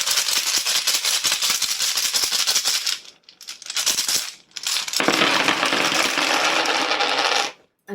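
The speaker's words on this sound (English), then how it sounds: "This can be quite noisy, so if you're wearing headphones, I would suggest just taking them off while I draw the runes." Rune stones rattle and clatter steadily in a bag or hands as they are shaken and drawn for a divination reading, loud and close, with a brief pause before a second long, dense rattle.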